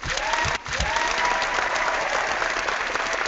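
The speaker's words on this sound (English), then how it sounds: "I got a good ovation from the crowd" A crowd gives a sustained ovation, dense close applause rolling on evenly at full strength with only a brief dip near the start.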